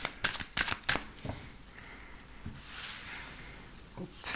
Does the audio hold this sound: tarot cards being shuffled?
yes